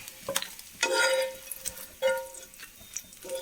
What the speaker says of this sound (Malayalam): നമുക്ക് ഈ വറുത്തെടുത്ത നമ്മുടെ വഴുതനങ്ങകളൊക്കെ ഇതിലേക്ക് ഇട്ട് കൊടുക്കാം